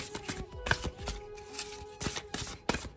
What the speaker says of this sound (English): So I'll pull 3 cards